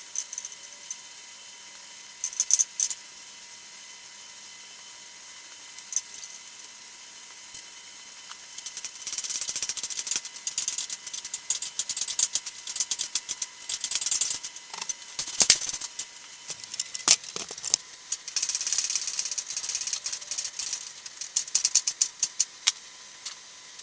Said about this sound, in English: bolt this bracket up.